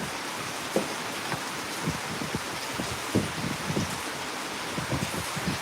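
Steady rain falls outdoors, a continuous hiss with scattered soft pattering drops, even in level throughout and with no voices.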